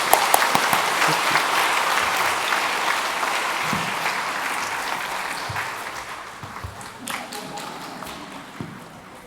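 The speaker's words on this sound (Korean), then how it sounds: "우리 박수로 축복하고 축하하겠습니다." A church congregation at a Sunday evening missionary sending service applauds the two new missionaries, a broad even clapping that slowly fades toward the end with a few stray claps.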